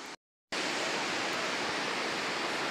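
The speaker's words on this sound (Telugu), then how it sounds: "జోగ జలపాతం" Roaring broadband rush of Jog Falls, a tall 253-metre waterfall in Shimoga district, Karnataka, loud and steady after a brief moment of silence, with no voices.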